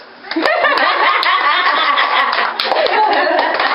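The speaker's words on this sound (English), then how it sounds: "Clap your hands." Hands clapping in a backyard during a family Mother's Day cleanup, with scattered sharp claps mixed into a dense, steady wash of nearby voices and laughter.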